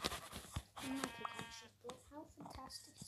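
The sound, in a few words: sheep bleating in Minecraft video game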